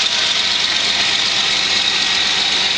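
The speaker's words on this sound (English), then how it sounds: "So this was my cold start video for the 96 Chevy S10." A 1996 Chevy S10 truck's 4.3 V6 Vortec engine idling after a cold start, a loud, steady hiss-heavy drone with no change in pace and no voices.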